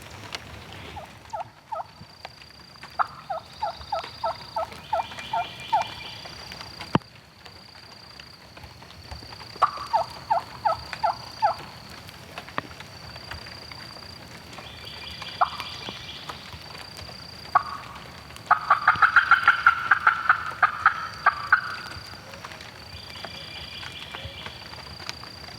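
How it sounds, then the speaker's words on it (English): A distant wild turkey gobbler, about a mile away, gobbles in several rattling bursts, spaced well apart, over quiet outdoor ambience with light background noise. "One gobbler. He's gobbled 3 times, I think, but he's about a mile south of us here."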